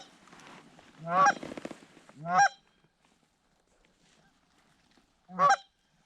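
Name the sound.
waterfowl geese honking in flight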